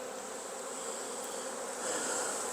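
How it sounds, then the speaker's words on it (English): Honeybees hum steadily around a hive, a dense, even swarm drone, moderately near, swelling slightly louder toward the end, with no voices. "Now those bees will come back"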